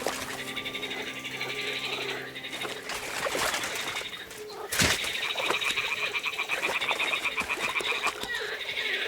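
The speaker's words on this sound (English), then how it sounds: "the toads are croaking here" Toads croaking in Kingdom Come Deliverance 2, a dense chorus of bleating, warbling calls lasting several seconds, with a sharp thump partway through and a busy outdoor ambience behind.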